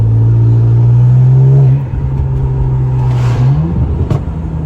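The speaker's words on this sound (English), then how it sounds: "the burbles are sounding great now that it's cold outside" A car with a plastic charge pipe idles loudly in cold weather, then its exhaust drops into a rumbling burble with a sharp pop near the end.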